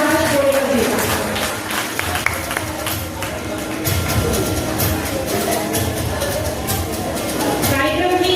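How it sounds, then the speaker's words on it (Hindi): Loud applause from a crowd welcoming a teacher at a felicitation ceremony, dense continuous clapping filling the whole stretch. "जोरदार तालियों से स्वागत कीजिए सुभाष बोड़ेकर जी का"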